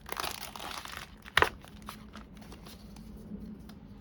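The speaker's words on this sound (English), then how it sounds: "it's just a straight package just to rip open" Crinkling plastic packaging from a Millennium Falcon model kit stage as it is torn open, with one sharp rip burst amid softer rustling nearby.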